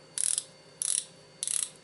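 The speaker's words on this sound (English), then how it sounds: "The drag system, clicking drag" Clicking drag on a Lew's BB1 Pro baitcast fishing reel, heard as three short bursts of rapid ratcheting clicks, each about a third of a second long, spaced evenly, close up and alone.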